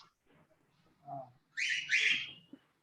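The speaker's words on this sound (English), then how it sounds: "The parrot is making more noise from behind." A parrot squawks in the background in two harsh, bright bursts, one just after the other, above faint low rumbles and movement.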